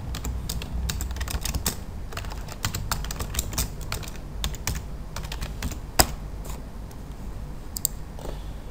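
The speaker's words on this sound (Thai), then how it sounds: "พิมพ์ชื่อโฟลเดอร์เป็น tank and vessel" Rapid, uneven clicks of a computer keyboard as a folder name is typed in Navisworks software, close and steady throughout with a few sharper keystrokes standing out near the end.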